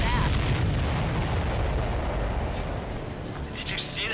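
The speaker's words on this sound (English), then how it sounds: "Did you see that explosion?" A supply ship blows up in the flight combat game Ace Combat 7, a deep, broad booming roar that fills the clip and slowly tapers, with game voices faintly under it.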